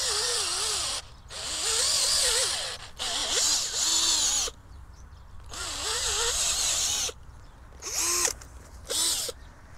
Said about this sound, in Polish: Nie wiem, czy to dobry pomysł z tą wiertarką.